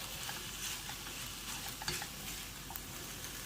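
Crumbled tofu scramble coated in a spice slurry hisses quietly in a pan while a spoon pushes it around, with faint scrapes and occasional light clicks against the metal.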